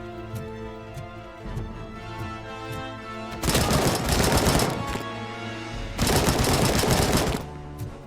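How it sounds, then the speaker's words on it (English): Two long, loud bursts of rapid assault rifle fire in the Robocop Rogue City video game, each lasting about one and a half seconds, separated by quieter game ambience and faint thuds. "Assault rifle!"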